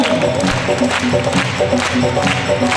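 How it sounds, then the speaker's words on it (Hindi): A large crowd at an Ekadashi kirtan at Panchayati Bhavan, Khatu Shyam Ji, claps loudly and continuously, with some cheering mixed into the dense applause, and musical tones sounding faintly beneath. "ताली बजाएं"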